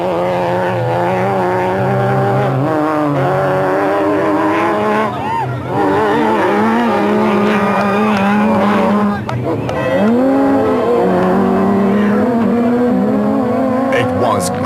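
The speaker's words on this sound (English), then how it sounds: "there were times when the 2 Castrol Toyotas were racing almost side by side." Two Castrol Toyota race cars run almost side by side at the Carnival City 400, their engines loud and close with rising and falling revs throughout.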